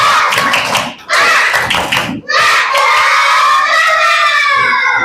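A classroom of children claps out the rhythmic tepuk semangat chant, with quick bursts of sharp claps broken by short pauses, then shouted voices and cheering that ring loud and close.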